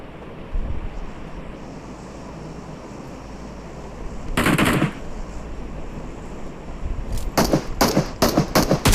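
Gunfire in a Free Fire–style mobile shooter game: one loud burst midway over a windy background, then a rapid string of automatic shots toward the end.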